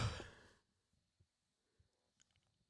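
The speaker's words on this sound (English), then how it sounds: "yawn felt really good" A single person's yawn trails off into a deep exhaled sigh in the opening half second, followed by faint small breaths and soft rustles in an otherwise quiet room.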